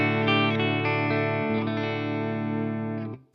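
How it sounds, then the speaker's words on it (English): A clean electric guitar tone through a Fender Deluxe Reverb amp, a sustained ringing chord with rich harmonics that holds steadily for about three seconds before cutting off, heard alone without talk. "Now, this is the clean tone of the Fender."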